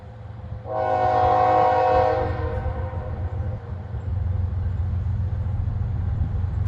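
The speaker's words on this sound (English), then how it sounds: "So you can hear the train throttled up." A train horn sounds one long, loud blast early on, then fades. A steady low diesel rumble from the throttled-up locomotive continues underneath throughout, with wind in the background.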